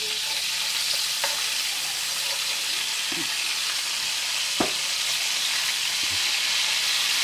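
Wine sizzling in a hot pan of onions for gravy, a loud, steady frying hiss with a few faint clinks and stirring knocks over it.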